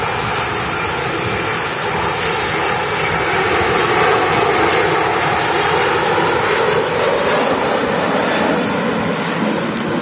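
An airliner roars through its takeoff roll at Manchester Airport, bound for Gran Canaria, a loud, steady broadband engine rush that swells slightly midway and holds throughout with no speech.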